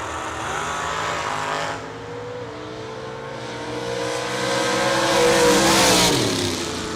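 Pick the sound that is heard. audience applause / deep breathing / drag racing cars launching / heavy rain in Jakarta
drag racing cars launching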